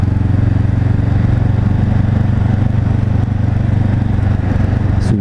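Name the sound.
Honda CB 500 F motorcycle riding, late braking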